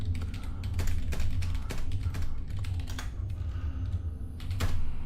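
Fast, steady clatter of keys on a computer keyboard during an Ultima IX speedrun, close and continuous with a low hum underneath, a few louder strikes standing out.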